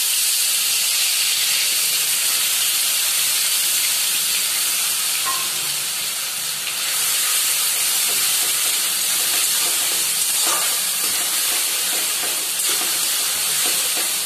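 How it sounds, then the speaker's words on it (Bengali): Ginger garlic paste sizzling in hot oil, a loud continuous hiss and crackle lasting throughout, close and steady with slight swells. "তেলটা আমার গরম হয়ে এসছে। আমি এবারে আদা রসুন যেটা পেস্ট করে রেখেছি ওটা ছেড়ে দিচ্ছি।"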